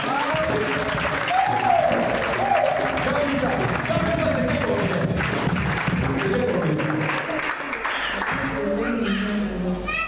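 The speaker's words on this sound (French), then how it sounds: "Est-ce qu'on va acclamer le Seigneur?" A church congregation claps and cheers to acclaim the Lord during a deliverance service, dense sustained applause filling the room alongside voices and chanting.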